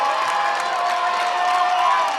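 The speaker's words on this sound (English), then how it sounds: "This crowd will make some noise." A baseball crowd roars continuously in a minor-league game at the bottom of the ninth inning with two outs, a loud, dense wall of cheering and shouting with no pause.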